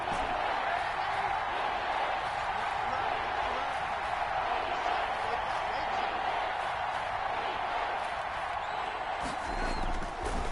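A stadium crowd in an American football video game on PS4 roars steadily, a broad, constant wash of cheering that holds at the same level throughout, with no distinct voices standing out.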